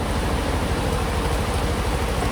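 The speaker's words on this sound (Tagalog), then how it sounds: "Lakas ng ulan." Heavy rain pours outside a house gate, a dense, continuous hiss that fills the whole space evenly and loudly from start to finish.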